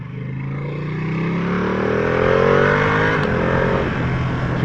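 Ducati Panigale V2 2020 motorcycle engine heard close and loud, its pitch stepping down through quickshifted downshifts before settling into a lower rumble.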